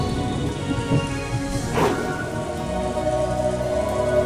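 Rain and thunder sound effect from the visual novel Umineko: a steady rain hiss with a low rolling thunder rumble that swells near the middle, loud and continuous.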